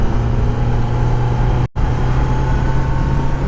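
A Kawasaki Z900 motorcycle on its stock exhaust gives a loud, steady engine drone that cuts out for a moment midway, then resumes at the same level.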